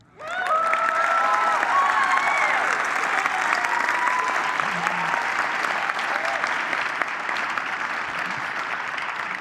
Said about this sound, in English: Your cheering section, no doubt.